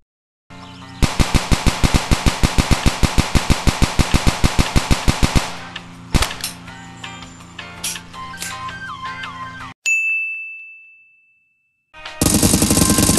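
Automatic fire from the AK-57 in the video game Dude Theft Wars multiplayer mode: a fast, loud burst of evenly spaced shots for about five seconds, then a clank, a short ringing tone and a second burst.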